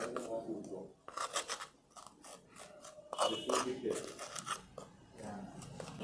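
Gritty scraping and rubbing as carbon graphite powder is stirred into aluminium-ion battery electrode material, close-up in uneven strokes with a speaking voice partly over it.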